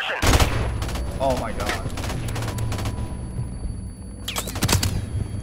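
Bursts of rapid gunfire in an online shooter video game, loud and close at the start and again near the end, with a player exclaiming over the shots.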